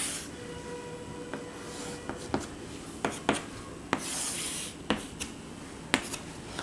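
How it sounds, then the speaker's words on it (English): Pen or pencil drawing a graph on paper, giving soft scratchy rubbing strokes with a handful of sharper ticks and taps spaced across the stretch, close and quiet, with no talking. "Just I'm drawing graph."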